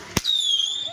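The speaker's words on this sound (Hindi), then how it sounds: "अच्छा पटाखा फोड़ू दिवाली बनाऊ" A Diwali firecracker bursts once with a sharp, close bang, followed by a long high whistle or fizz trailing off.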